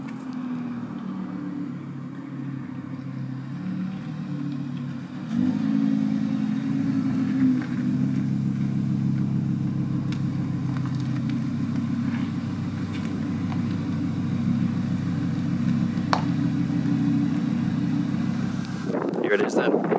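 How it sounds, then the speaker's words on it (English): Audi R8 rear-wheel drive performance edition coupe engine running steadily, a low sustained drone that grows louder partway through as the car draws closer. "Here it is then. This is an Audi R8 rear-wheel drive performance edition, obviously a coupe as well."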